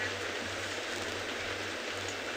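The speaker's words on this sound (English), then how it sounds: "the rain continues. It's a drizzle" A light drizzle falls on a game reserve where buffaloes rest, making a steady, even hiss of rain with no voices.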